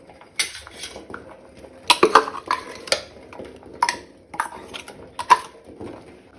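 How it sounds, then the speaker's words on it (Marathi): Ground spice masala goes into cooked toor dal in a pot on a gas stove, with scattered clinks and scrapes of a spoon against the metal pot in uneven bursts, fairly close and moderately quiet. "आता आमी तातूंत ग्राइंड केल्या ती मिरसांग घालुया।"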